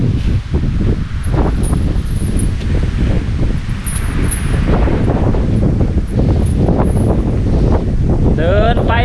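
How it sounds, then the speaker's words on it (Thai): Strong wind buffets the microphone in a constant roar beside a river with an elephant, with rustling and occasional faint voices beneath the gusts. "ลมแรงมากนะครับผม"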